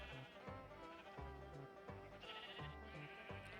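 Video-game sheep on a farm bleat in short repeated calls, mixed with a looping in-game music bed at a moderate, even level.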